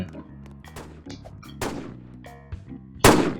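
Gunfire in a Roblox GTA-style video game: several sharp shots ring out amid game background sounds, with a loud, close blast near the end standing above the rest.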